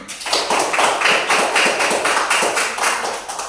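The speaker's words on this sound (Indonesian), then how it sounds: "Tepuk tangan." A group clapping hands at a training session awards moment, fairly close, quick rhythmic claps that swell and taper slightly over a few seconds.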